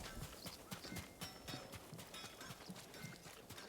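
A horse mount trots in Final Fantasy XVI, with quick, rhythmic clip-clop hoofbeats over a busy game backdrop; a few fleeting sounds sit in the mix.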